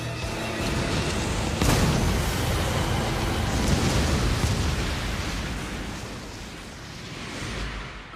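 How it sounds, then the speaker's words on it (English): A loud, sustained explosive roar fills the scene, with a sharp burst early on and a rumbling, crackling wash that slowly fades. "The item's gonna detonate! And the more money you spent on it, the bigger the explosion!"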